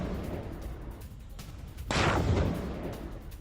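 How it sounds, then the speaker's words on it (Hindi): Explosions at a Russian missile parts plant, heard as one sudden loud blast that surges out of a steady background rumble and then rolls on, with faint distant thuds before it. "ये देखिए प्लांट में जिस वक्त धमाके हुए उसी वक्त की तस्वीर।"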